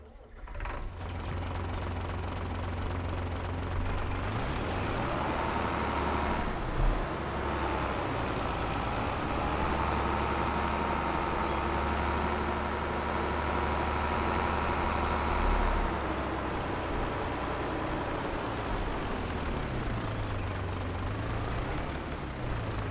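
Tractor engine in Farming Simulator 22 at a forest logging site, a loud steady diesel rumble that rises and falls as revs change, continuous and close throughout.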